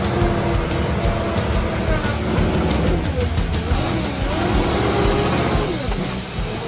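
A modified retired Hummer drives off-road on a race-course line, its engine a steady loud rumble throughout with rising and falling tone as it climbs over rough ground.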